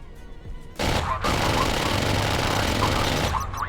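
After a quiet start, rapid gunfire from a fighter jet's cannon in the naval game Modern Warships erupts and holds as a steady, loud, buzzing stream of shots for about three seconds.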